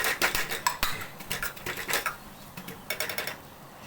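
A tall steel tumbler beats chicken kothu parotta on a hot pan in rapid metallic clinks and taps, close and busy in uneven bursts with brief pauses.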